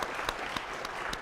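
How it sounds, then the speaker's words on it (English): Conference audience claps briefly, a short burst of fairly quiet applause with a few distinct, sharper hand claps audible through the wash. "give yourselves a round of applause for actually sticking around the entire conference"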